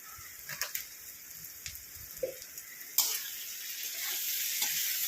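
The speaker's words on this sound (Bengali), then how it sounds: "এইবার ভালো করে কষিয়ে নেব।" Egg curry masala with coriander powder being stir-fried in a pan, a soft steady sizzle with intermittent spatula scrapes and stirring clicks, quiet and close, growing a little louder toward the end.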